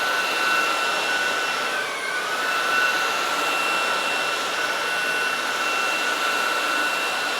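Smart Ai V5 cordless vacuum cleaner running in automatic mode on full suction, a steady loud high whine with a brief dip in pitch partway through before it settles back to a constant roar.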